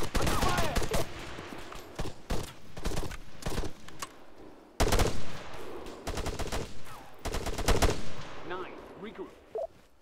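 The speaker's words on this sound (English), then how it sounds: "Enemy fire! Under fire!" Gunfire in the military game Arma 3, with repeated bursts of close, loud automatic rifle fire and single shots separated by short pauses, with shouted game voice lines between and over the shooting.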